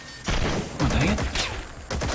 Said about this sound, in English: Are you fucking mortaring me?